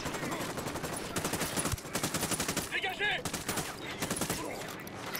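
Rapid bursts of automatic machine-gun fire in the video game Ghost Recon Wildlands crackle repeatedly, loud and close, with brief pauses between volleys and a faint voice now and then.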